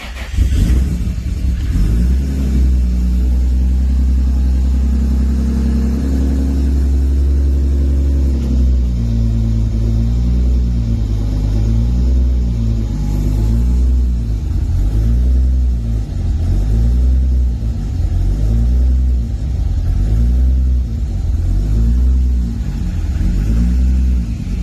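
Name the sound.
cold startup of 1997 Toyota Supra Turbo racecar engine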